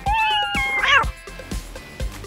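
A cat meows once, a rising then falling cry, followed by a short soft mew, with quiet taps and low rumble in the background.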